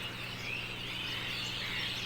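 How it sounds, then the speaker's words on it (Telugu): Small birds call in a home garden, faint, high twittering and chirps rising and falling over a steady low background hum, with no talking. "పక్షులు గోల"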